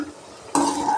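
Stir-fried carrots and beans are scooped with a spoon toward the edge of a pan, with a quiet scrape followed by a louder burst of clattering and stirring against the metal.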